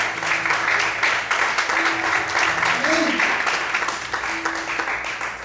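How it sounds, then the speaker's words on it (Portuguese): Worshippers at a Portuguese-language church service applaud strongly, a thick continuous clapping from a full room, with voices and brief tonal calls rising now and then above the applause. "aplauda o Senhor bem forte em nome de Jesus"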